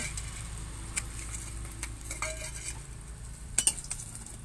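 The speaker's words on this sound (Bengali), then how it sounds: "আমার বেগুনটা ভাজা হয়ে গেছে আমি বেগুনটা এবার তুলে নেব" A metal utensil scraping and clinking against a pan while fried eggplant pieces are lifted out, a few soft taps and a sharper double clink near the end over a faint background hiss.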